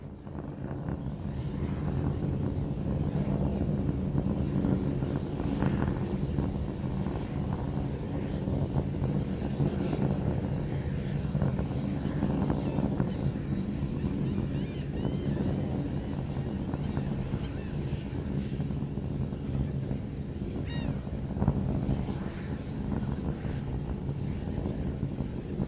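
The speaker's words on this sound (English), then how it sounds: "the Raptor engine's continuing to perform" Raptor rocket engine firing in the Spaceflight Simulator game during a high-altitude test flight of an SN15 starship, heard as a continuous, steady low roar that barely changes in level.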